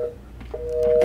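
Telephone keypad tones sound close and clear, a short beep followed by a longer sustained dual tone.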